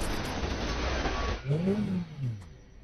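A car tumbling end over end down a flight of stairs in an action film, a dense roaring crash and rumble that gives way midway to lower engine whine and scraping rolls.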